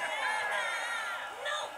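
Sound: crowd cheering at an anime fight

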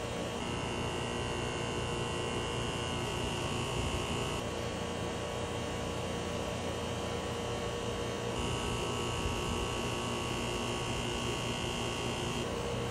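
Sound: air conditioner compressor starting with a soft start kit installed

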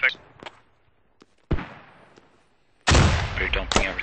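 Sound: mortar rounds firing in a video game

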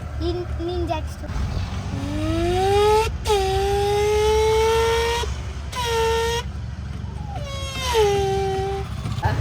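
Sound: boy imitating a vehicle engine

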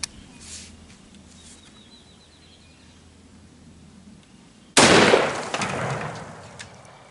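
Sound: 308 rifle shot firing sabot round over chronograph

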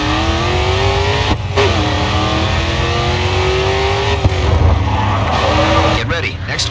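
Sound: race car engine revving while drifting in video game GRID 2

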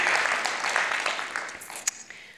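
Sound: audience applause

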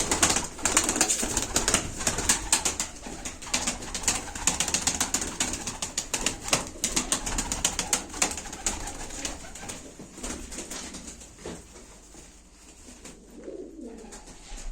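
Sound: pigeons cooing and flapping wings

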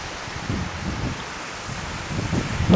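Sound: strong wind blowing

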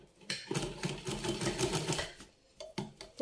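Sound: sewing machine stitching fabric

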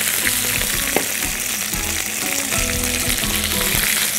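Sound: stirring frying vegetables together in a pan

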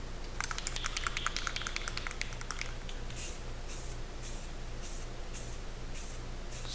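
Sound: Rust-Oleum spray paint coating a CNC Christmas ornament

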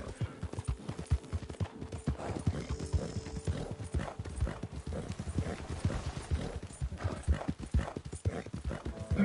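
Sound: horse galloping in video game Red Dead Redemption 2

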